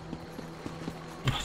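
A sorrel farm horse in the Elder Scrolls Online game plods along with soft, evenly spaced hoof clops, four or five quiet steps, then a slightly louder thump near the end.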